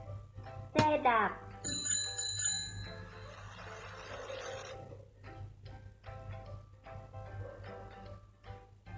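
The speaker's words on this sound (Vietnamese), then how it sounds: "Xe đạp." A bicycle bell rings with a couple of quick bright trills near the start, followed by chiming tones and soft background music.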